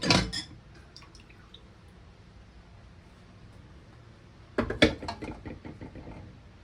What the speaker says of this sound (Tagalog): isa pang technique ibababad natin yung dahon sa tubig